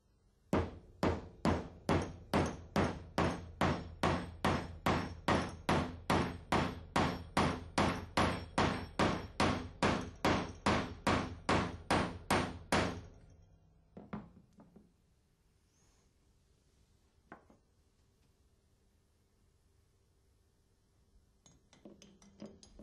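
A connex pin being fitted into an Alfa Laval LKB valve actuator, with about two dozen evenly spaced, crisp metallic taps in a fast steady rhythm, then near silence broken by a few faint clicks.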